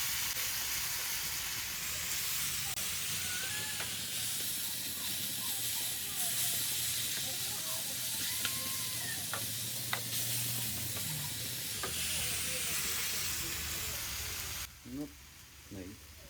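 Sliced banana roasting in ghee in a pan, a continuous bright sizzle and hiss with occasional stirring scrapes, close and loud, cutting off sharply near the end.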